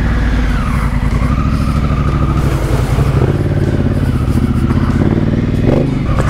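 A Honda CRF1000L Africa Twin motorcycle engine roars loudly and close up on a muddy off-road ride, revving continuously with rattling, clattering mechanical noise throughout.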